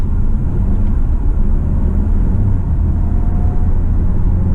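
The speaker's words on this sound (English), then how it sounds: "This car, at least the engine it makes a decent amount of grunt and noise." A Volkswagen Tiguan Allspace with a 2.0 TSI Gen3B engine, 4Motion and a DSG7 gearbox pulls under acceleration. It gives a loud, steady, low engine rumble that fills the cabin, with no talking.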